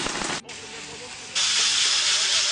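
Beef pieces hiss and sizzle loudly in a hot frying pan after Maggi seasoning is added for quesadillas, a short burst followed by a brief lull and then a strong, steady sizzle.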